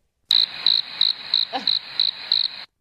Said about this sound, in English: I think I have crickets.